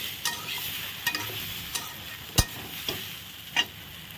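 Young jackfruit fries in hot oil in a pan, a soft low sizzle broken by a handful of sharp spatula scrapes and knocks against the metal.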